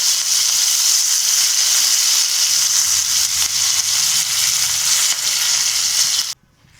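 Cumin seeds and curry leaves hit hot oil in a pan, a loud, steady crackling sizzle that runs unbroken for about six seconds before cutting off abruptly.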